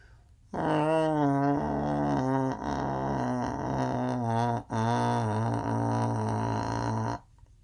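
A piano recording of Bach from an earlier Bach box set, with the pianist's low voice humming along, the tones sustained and wavering, playing continuously for several seconds with a brief dip midway.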